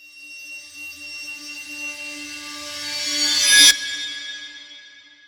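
A reversed sample from Pinkertone's Infinity Vol 1 library builds gradually with sustained shimmering tones and a rising airy wash, peaking in a sharp cutoff, then trailing into a softer lingering tail.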